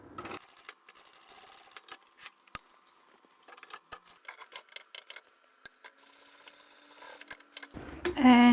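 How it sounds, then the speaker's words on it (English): A sewing machine runs a triple stitch over joined webbing on a tote bag, with quiet whirring and sparse sharp ticks at close range, ending in a louder clatter. "Now this is the section where I've joined my webbing together. I'll triple stitch over that."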